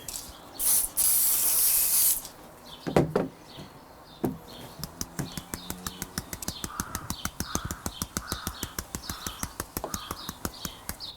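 A static grass applicator for model railway scenery lets out a loud, hissing spray burst, followed by a few knocks and then a long run of rapid, regular ticking clicks at close range.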